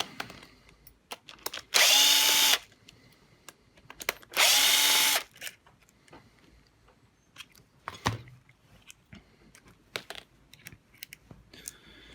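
A power drill backs screws out of an electronic gas regulator from a combi-boiler in two loud, steady bursts of about a second each. Faint clicks and handling noises follow in a quiet room.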